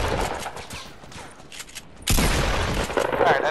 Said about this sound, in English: Oh, that gun sounds powerful as fuck.